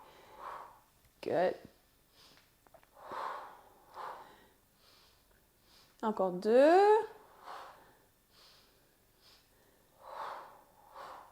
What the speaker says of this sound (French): on entend bien sa respiration